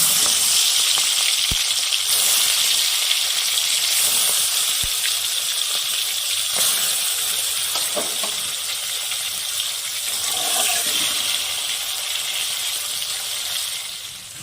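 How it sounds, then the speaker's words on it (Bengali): Giant freshwater prawns fry in hot mustard oil with a loud, steady sizzle and crackle running unbroken throughout, fading slightly at the very end. "তেলটা আমার গরম হয়ে গেছে, মাছগুলো ভেজে নিব।"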